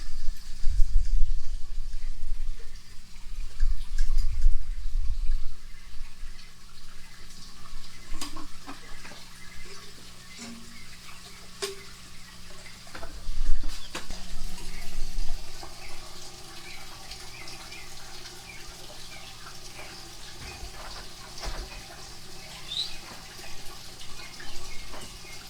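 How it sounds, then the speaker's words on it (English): Water from a backyard koi pond trickles and splashes in a soft, steady wash. Low rumbles and occasional clicks and handling noises sit over it, and nobody speaks. "please forgive me if we're picking up some water noise. We got a koi pond over here."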